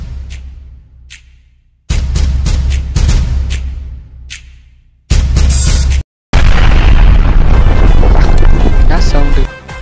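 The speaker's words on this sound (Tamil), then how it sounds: "ஆட்டோ பம் தானே அது?" Diwali firecrackers called auto bombs go off in sharp loud booms, several quick bangs early, then long roaring blasts close by, with voices in the mix.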